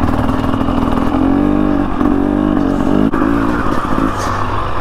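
A wide 60-inch off-road vehicle drives along a narrow trail route, its engine droning steadily and loudly close by, with small rises and dips in revs and no talk.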